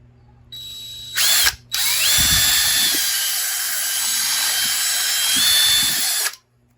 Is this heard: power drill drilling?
yes